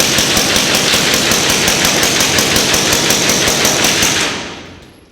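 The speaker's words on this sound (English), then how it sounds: "my shooting footage was all taken indoors at the Jefferson Gun Outlet just outside of New Orleans" Suppressed B&T KH9-SD submachine gun fired at an indoor range: a long automatic burst of evenly spaced, rapid, muffled reports, loud and close, cutting off before a short reverberant tail.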